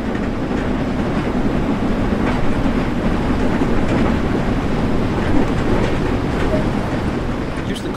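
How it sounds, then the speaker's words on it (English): A steam train in Train Sim World 2 runs steadily with a continuous rumbling, clattering rhythm of wheels on track, loud and close throughout without pause. "Approaching the next station, let's prepare the train to slow down."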